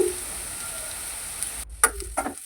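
Ground turmeric, garam masala and pepper powder hit a sizzling pan for an okra gravy, a steady hiss with a few sharp scraping stirs near the end, close and alone.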